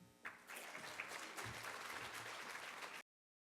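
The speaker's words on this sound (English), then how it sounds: "Another round of applause." Audience applause at a child welfare conference, a dense, steady wash of clapping from a large crowd lasting a few seconds before cutting off.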